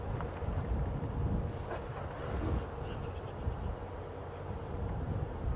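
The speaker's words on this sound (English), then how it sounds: "I'm not sure if you can hear it over the wind, and it is very, very windy" Strong, steady wind buffets the microphone in a continuous low roar during a sunset safari drive, with no voices.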